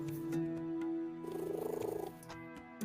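A cat purring softly in a quiet room, a brief rhythmic rumbling purr close by under a low steady hum and faint game sounds.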